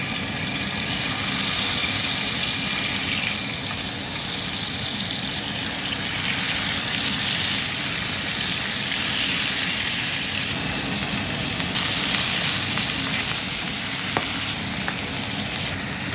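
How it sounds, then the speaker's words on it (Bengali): Mrigal fish head pieces fry in hot oil in a pan, giving a loud, steady, crackling sizzle that holds without a break. "তেলটা গরম হলে আমি একে একে মাছের মাথার পিসগুলো দিতে থাকবো"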